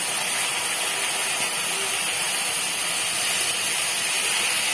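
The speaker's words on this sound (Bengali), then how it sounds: "এখন ওই তেলের উপরেই দিয়ে দিচ্ছে জল, তেজপাতা" Water and bay leaves hit hot oil left from frying mango in a pan, producing a loud, steady broadband hiss and steam roar that holds evenly throughout with no speech.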